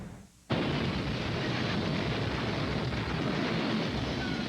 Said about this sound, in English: get ready for a steady onslaught of explosions